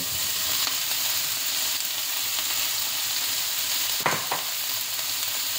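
Carrots, onion and mushrooms frying in a pan give a dense, even sizzle and hiss throughout, close up, with one brief scrape of stirring partway through and no voices.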